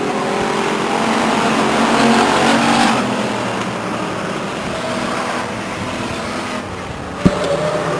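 Race cars roar around the oval at Stockton 99 Speedway in 1999, a loud steady engine drone heading into the turn and down the backstretch, easing slightly, with a sharp knock near the end.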